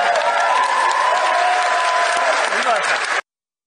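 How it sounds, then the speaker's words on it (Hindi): Loud, dense audience applause at a televised event, a continuous roar of clapping with some crowd voices mixed in, cutting off abruptly after about three seconds. "तो तालियों की आवाज आपने यहां पर जरूर सुनी होगी"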